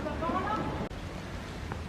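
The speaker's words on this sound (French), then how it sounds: "J'ai du mal à filmer parce qu'il pleut. Ah, il tombe des cordes." Heavy, steady rain pours down in an outdoor garden at Versailles, a dense continuous hiss close to the microphone with a brief dropout midway and faint voices beneath.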